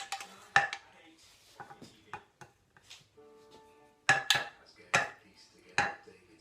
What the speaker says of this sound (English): Just deglaze that pan, 2 tomatoes.